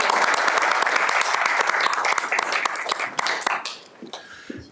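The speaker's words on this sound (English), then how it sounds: "Let's give them a round of applause." A room claps for two students at a school board special meeting, steady crowd applause that thins and fades out over the final second.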